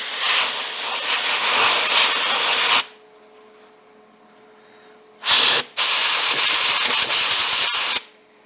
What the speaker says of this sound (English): Brake Clean does a fantastic job of just removing the grease.